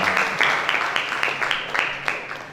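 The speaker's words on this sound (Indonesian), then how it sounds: "Yang pertama tepuk tangan dulu dong buat pemateri kita." Audience at a youth seminar in Koja, North Jakarta, giving a short round of applause, a brief burst of scattered hand claps from a modest crowd that tapers off.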